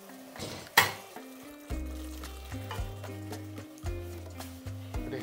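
Sliced pork hits a pan of curry paste over gentle heat and sizzles steadily while being stirred, with a sharp crackle at the start and repeated scraping and knocking of the utensil against the pan, close and alone.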